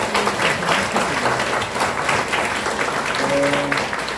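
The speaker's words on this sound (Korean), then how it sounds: "한번 박수로 응원하겠습니다" A church congregation applauds warmly, dense sustained clapping from many people filling the room, with a faint voice or tone briefly rising underneath.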